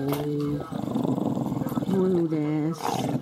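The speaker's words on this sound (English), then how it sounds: "he's growling at me" A dog growls in low, rumbling bursts close by, while someone speaks to it over the top throughout.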